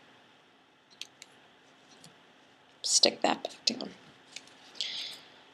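Scissors cut tape in a few quick, close snips and clicks during a careful application, with a person speaking briefly nearby.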